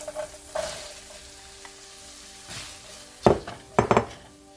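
Onion and poblano pepper cooking in melted butter in a pan, a soft steady sizzle underneath with a few sharper bursts and clinks of stirring utensils toward the end.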